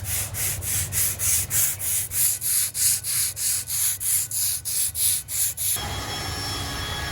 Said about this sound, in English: I'm just rubbing it down with a wire brush in the drill so they slide on easier.